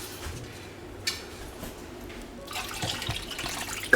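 Water pours into a pot of washed rice for pulao, a soft trickle turning into a fuller, louder splashing stream in the second half.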